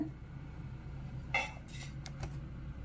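Washed sweet corn kernels being tipped into a metal pot for street-style sweet corn butter masala, giving a brief clattering rattle midway with a few lighter clinks after, close by and with no one talking.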